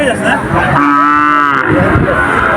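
A cow at a cattle market lets out one loud, drawn-out moo close by, rising and falling over the busy murmur of the market crowd.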